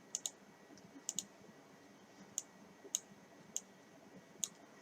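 A computer mouse clicks sharply and close, in quick pairs at first and then single clicks spaced a second or so apart, over faint, quiet room noise.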